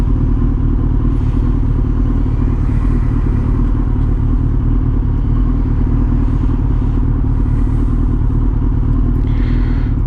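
Steady engine drone and road rumble from a 2005 Suzuki GSX1300R Hayabusa being ridden, continuous and loud throughout with occasional faint clatter and wind bursts, no talking.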